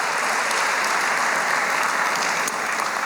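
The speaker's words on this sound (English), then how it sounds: "Can we give them a round of applause for that?" An audience at an economic news event gives sustained applause, a dense, even wash of many hands clapping at a steady level throughout.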